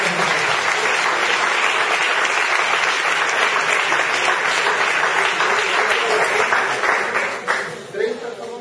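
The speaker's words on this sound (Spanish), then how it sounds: "Yo creo que nos merecemos un pequeño aplauso" Dense applause from an assembly audience at a Podemos Jaén meeting rolls on steadily for several seconds, then thins out toward the end.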